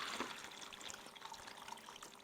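Faint trickle of a cocktail made with burnt orange bourbon being strained from a shaker into an ice-filled tumbler, a quiet continuous liquid pour.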